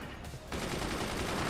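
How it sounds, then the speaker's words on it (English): Massed mortar fire in the Forts RTS video game, a dense, continuous barrage of overlapping booming shots that thickens after a brief lull and keeps rolling, loud and unbroken. "Mortars dig through wood very quickly."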